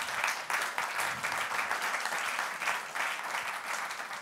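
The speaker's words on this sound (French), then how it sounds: "Vous pouvez encore l'applaudir" Applause from the audience at a business leaders' colloquium in Avignon as a speaker comes onto the stage, brisk continuous clapping from a large crowd at even strength throughout.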